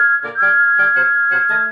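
Thomas the Tank Engine's steam whistle, a single bright, steady tone held for nearly two seconds with pulsing, chuffing texture underneath, loud and close.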